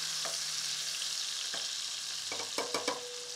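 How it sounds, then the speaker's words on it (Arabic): Chicken sizzling steadily in a hot pan, with a few sharp clattering stirs or turns near the end, close and alone with no talk. "هنا الدجاج ديالي نحاول انني له كلي تحميره"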